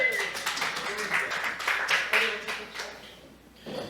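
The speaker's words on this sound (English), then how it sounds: "Give him a nice round of applause." Audience clapping at a small coffeehouse show after a magic-act volunteer helps move a table, a moderate patter of hands fading toward the end, with a voice speaking over it.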